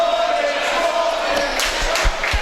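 A high school basketball crowd at a SAR boys varsity homecoming game against Frisch chants in a loud, sustained mass of voices, with a few sharp claps or thumps near the end.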